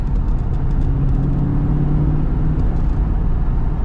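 A 1988 Chevrolet Corvette Convertible accelerates on a dry road, its engine a steady low rumble and whir with road noise, heard from inside at a constant level and without talk.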